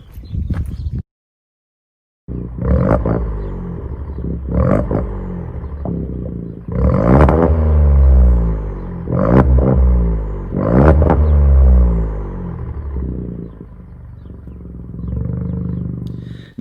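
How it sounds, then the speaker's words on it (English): VW Up 90 horsepower small petrol car, exhaust heard close as the engine is revved in a series of short blips and longer rises, each climbing then dropping back to idle. "Now let's listen to the exhaust. I'll give you a few revs"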